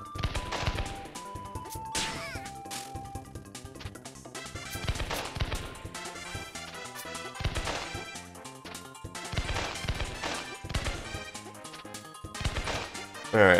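Repeated bursting, crashing attack effects from the firework power in the Nintendo 64 game Kirby 64: The Crystal Shards, loud and continuous over game music with dense percussive hits throughout.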